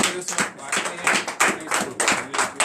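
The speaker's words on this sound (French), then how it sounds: "Donnez l'acclamation à l'Éternel." A church congregation at a morning prayer service in Benin claps in a rapid, uneven rhythm, a dense patter of many hands filling the room.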